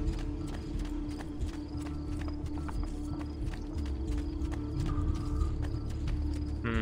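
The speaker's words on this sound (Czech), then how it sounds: "Kůň tady běhá, tyhle, jak splašenej." A horse in the video game Assassin's Creed 2 gallops with steady, rapid clip-clop hoofbeats under a continuous game soundscape, loud and close throughout with no talk.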